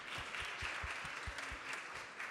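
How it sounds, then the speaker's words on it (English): Faint, steady applause from a conference audience at a corporate project event, an even patter of many hands heard from a distance without any voices. "round of applause for IT Services Hungary"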